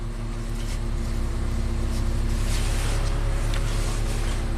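A Chevrolet HHR SS Turbo with reduced engine power and a fuel pressure regulator fault runs steadily and loud, its engine idling with a rough, uneven drone and no talk over it.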